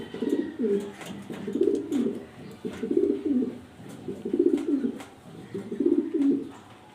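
A male Maltese pigeon at a bird exhibition coos in a regular series of about five throaty phrases, each a second or so apart, loud and close over quiet background noise.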